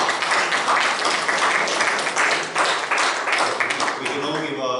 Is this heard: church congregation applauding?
yes